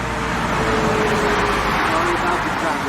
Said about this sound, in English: sorry about the traffic, I cannot do anything about that